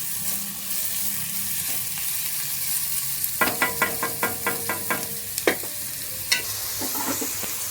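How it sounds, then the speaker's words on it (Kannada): Food frying in a pan until golden brown makes a constant sizzle, broken by a quick run of rhythmic scraping stirs and a few sharper knocks, close up. "ಸೊ ಇವಾಗ ಇದು ಚೆನ್ನಾಗಿ ಫ್ರೈ ಆಗ್ತಾ ಇದೆ."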